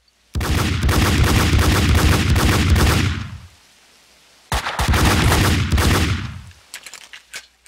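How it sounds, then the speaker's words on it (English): Dual Desert Eagle pistols fire in Max Payne 2 in loud, dense volleys, a long burst of rapid heavy shots, a brief pause, then a second sustained burst trailing off into a few scattered shots. "Oh, my dual deagles."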